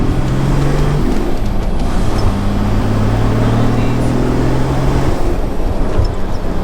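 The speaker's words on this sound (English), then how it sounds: "That's shifting really nice now. That's shifting way better. The gearbox is really good." A car engine runs steadily and loudly from inside the vehicle as the gearbox shifts, with the engine note dropping and climbing between gears under faint road and wind noise.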